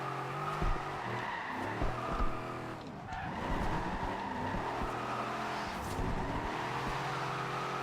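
Jeep Wagoneer with a drift build sliding through Forza Horizon 2, engine droning steadily while the tires skid and squeal continuously throughout, loud and close with no voices.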